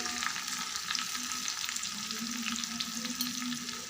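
Curry leaves crackle and sizzle in hot tempering oil with asafoetida, a bright continuous frying hiss with small pops, close and loud, no talking.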